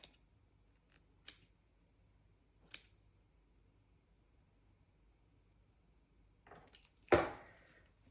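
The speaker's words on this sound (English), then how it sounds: "All that's left to do now is I'm going to trim through the ends." Scissors trim the ends of needle-felted wool with a few faint, isolated snips, then a closer cluster of louder cuts near the end.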